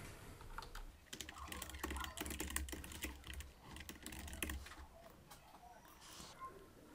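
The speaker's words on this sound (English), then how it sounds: "And I'm typing here." Quiet clicking of fingers typing on a computer keyboard comes in irregular bursts, fairly close but faint, with a few brief pauses between runs of keystrokes.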